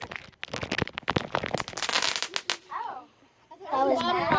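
Backyard Fourth of July fireworks crackle and pop in a quick string of sharp bursts, followed by people talking nearby as the noise dies down.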